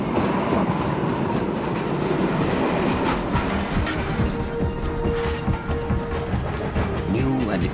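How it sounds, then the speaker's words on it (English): An original iron ore train hauled by two steam locomotives labors up the steep Gesäuse incline, giving off a continuous heavy rumble and clatter of rolling wagons, with a sustained squealing tone partway through. "An original iron ore train, hauled by 2 steam locomotives, braved the steep incline of the Gesäuse"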